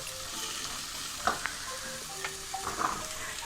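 Bottle gourd, green peas and potato tumbling into a hot pan of sizzling spices, with a steady crackling fry, a few sharp utensil knocks and a brief stir near the end. Nobody speaks.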